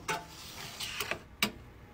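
A thermal stencil printer feeds a transfer sheet through with a few sharp mechanical clicks and whirring bursts, spaced irregularly over a faint motor hum, close and moderately loud.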